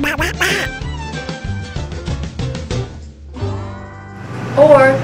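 Duck call blown in a run of sharp, nasal quacks, loud and close, followed by a pause and a longer buzzy honk at the end.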